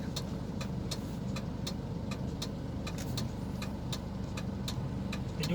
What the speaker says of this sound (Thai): เจอรถครับ รถส่งน้ำดักทางครับ